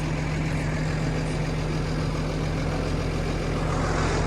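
Dirty farm tractor engine running steadily near a potato field, a loud constant low rumble with no talk.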